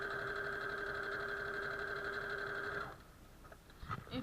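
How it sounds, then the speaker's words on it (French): Sewing machine overlocking fabric runs with a steady, fast mechanical whir for about three seconds, then stops, leaving a few faint clicks and handling noises. "Je vais surfiler la deuxième partie"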